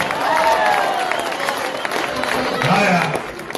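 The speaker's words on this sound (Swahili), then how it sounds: "Wapigie makofi." Classroom audience clapping and cheering for a pupil, a steady dense wash of applause with excited voices and chatter mixed throughout.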